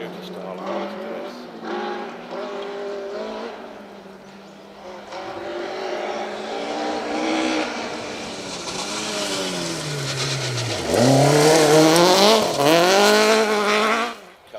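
A bright yellow Toyota rally car charges along a stage of the Kielder Carlisle Stages Rally, its engine rising and falling through gear changes and revs, then screaming louder and closer near the end, with a commentator speaking over parts.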